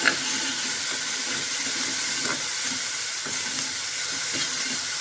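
Chopped onion frying in hot oil with cumin seeds in a home kitchen pan: a steady, close, continuous hiss and sizzle with faint crackles, running alone without pause.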